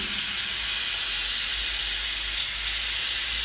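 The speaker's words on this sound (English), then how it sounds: "make sure you've got a clean tip on the airbrush, then drawing a line of this kind of shape" An airbrush sprays paint onto a T-shirt with a steady, close, bright hiss that runs unbroken from start to finish, with no voices over it.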